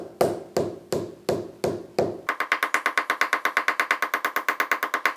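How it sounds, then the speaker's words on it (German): A hammer strikes the end of a wooden dowel rod to compress its fibres, first with five heavy, evenly spaced blows, then with a fast, steady run of lighter, sharper taps, all close and loud. "wir hämmern dieses Ende des Rundstabes jetzt wirklich mit etwas mehr Kraft etwas kleiner"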